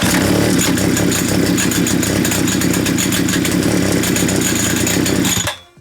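Petrol strimmer engine running at a loud, steady buzzing roar close by, continuing for several seconds before cutting off abruptly at the end, with no talking.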